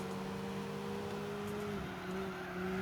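A car in Gran Turismo 4 revs very high, its engine note holding a steady, sustained pitch throughout with a slight dip late on, loud and continuous with no talking.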